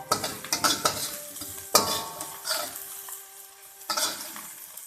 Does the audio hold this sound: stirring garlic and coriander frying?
yes